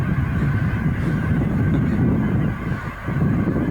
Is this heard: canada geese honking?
yes